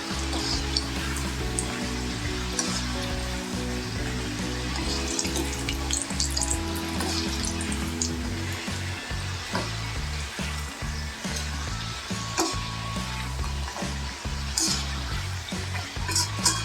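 Palm-flavored nimki frying in hot oil, a dense, continuous bubbling sizzle with occasional stirring knocks, close and steady throughout with no speech.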